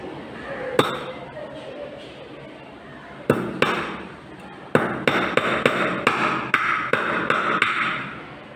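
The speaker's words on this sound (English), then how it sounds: "Now I am going to hit with the hammer." A hammer drives a sharp-edged nail into a wooden bar in a classroom physics demonstration, giving a series of sharp metallic strikes, one early, then a quickening run of about eight blows over a steady room background.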